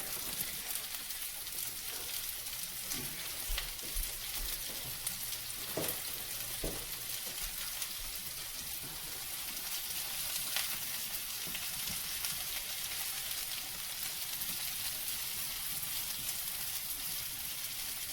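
Vegetables, mostly onion, fry in a hot pan for sweet and sour pork, giving a continuous loud sizzle with occasional light clinks and stirring sounds.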